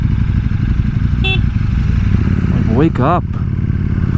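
A KTM Super Duke motorcycle rumbles loud and close, with a couple of sharp throttle blips rising and falling near the end. A rider speaks briefly over the engine.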